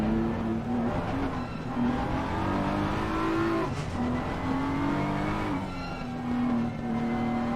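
A race car engine in a multi-class racing video game at Monza revs and shifts through gears, its tone rising and dropping repeatedly, loud and close, like an in-game onboard view.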